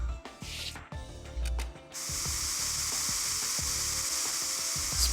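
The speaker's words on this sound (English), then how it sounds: "Spray some more luminol." Luminol spray hisses in the video game Trauma Team, a steady bright spray sound sustained for several seconds after a few short bursts and clicks, with no voices over it.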